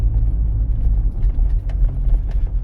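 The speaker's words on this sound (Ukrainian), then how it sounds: "Дорога тут така погана, я зараз їду на першій передачі" A car crawls in first gear at about 10 km/h over a badly broken road on a driving-test route, heard from inside as a continuous low engine rumble with soft bumps and no talking.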